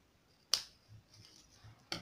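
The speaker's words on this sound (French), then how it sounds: "on va couper le fil" Scissors cut a wire while a handmade mini iPhone X model is being built: one crisp, sharp snip, then a second near the end, quiet and close in a nearly silent room.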